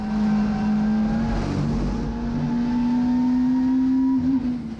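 A WTCC touring race car roars loud and close from onboard at Losail circuit, its engine holding a steady high drone with small pitch shifts as it downshifts for a hairpin, then briefly dips at the end.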